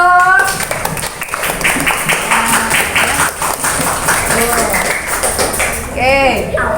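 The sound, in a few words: children clapping hands in class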